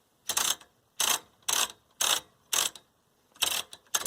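Selector knob on a 1970s General Electric color TV tuner, model CYA7342, twisted back and forth during contact cleaning, giving six bursts of close mechanical ratcheting clicks in a steady rhythm with short silent gaps between.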